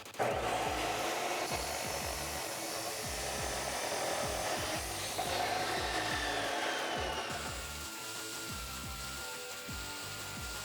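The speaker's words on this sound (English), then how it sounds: "let's go ahead and go on over to the chop saw" A chop saw cutting a 3-inch exhaust mid-pipe for a 2011-2014 Ford F150 5.0L, a loud continuous whining grind with a shifting pitch that drops off near the end.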